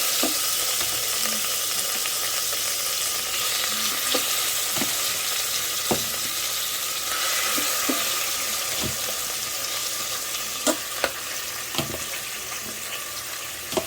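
Beef browns in a small pot for stew, a loud continuous sizzle and crackle of frying meat with occasional sharp pops and stirring clicks, close and steady with no talking.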